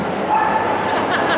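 Small dogs yip and whimper among a crowd, the sound steady and fairly close, with murmuring voices mixed in throughout.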